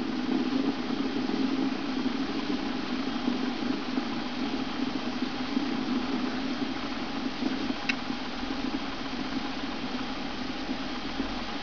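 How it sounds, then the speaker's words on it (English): Space Shuttle Atlantis engines at full throttle during liftoff make a steady, continuous roaring rumble that holds even and unbroken for the whole stretch. "All 3 engines looking really good, back at full throttle now at liftoff."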